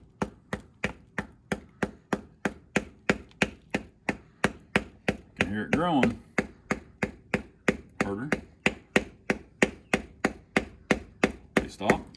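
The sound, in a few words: rubber mallet striking a screwdriver to crack a Keokuk geode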